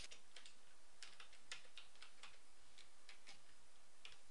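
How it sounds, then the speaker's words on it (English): Keys on a computer keyboard tapped in a quick, uneven series of light clicks, fairly quiet, while working in Microsoft Word 2003; no one speaks. "I can also press Control Page Down on the keyboard"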